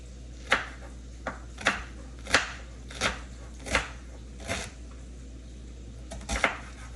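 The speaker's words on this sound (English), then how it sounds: "these parts of the cabbage, I usually cut out, as you saw, like I cut that" A knife chops through cabbage on a board at home, giving about nine sharp, evenly spaced thuds with quiet gaps between them, close and unaccompanied.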